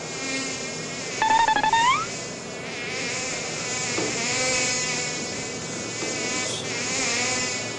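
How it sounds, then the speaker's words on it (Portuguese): A housefly buzzes close by in a steady, thin drone that swells and fades as it moves, with a brief louder, rising whine near the start. "Essa mosca está perturbando a minha vida."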